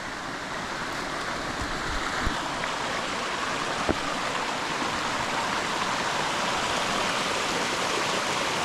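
Steady rushing of stream water flowing beside the Laurel Falls walkway, a close, continuous broadband wash with no voices.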